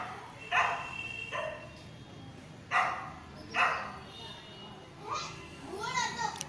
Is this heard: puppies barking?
yes